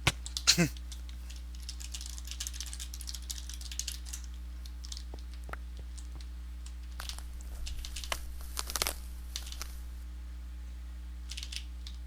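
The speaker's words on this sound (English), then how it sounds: "now I'm typing to talk to Alkimoss" Quick, light clicking of a computer keyboard in short irregular bursts, faint and close, with a few louder taps and occasional speech.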